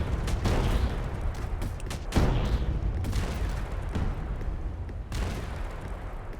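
Roaming tanks in a homemade video game fire rapid bursts of gunshots and booms, a dense, loud volley that repeats in quick clusters with no talking over it.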